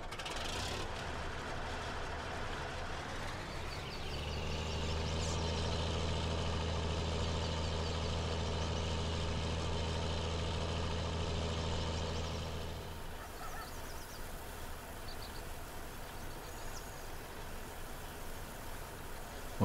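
A tractor engine in Farming Simulator 19 on PS4 idles with a low, steady hum that comes in after a few seconds, holds evenly, then cuts out, leaving a quieter background.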